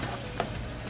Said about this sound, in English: we're just gonna let it simmer here for a little bit